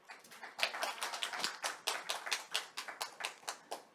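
An audience claps after a lecture at a teachers' education forum. The applause is steady and dense but faint and distant, with no talking over it.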